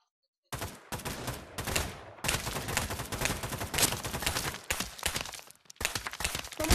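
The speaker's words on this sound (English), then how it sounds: "AK." An AK rifle in the video game Pavlov fires in dense bursts, loud and close, broken by brief pauses between volleys.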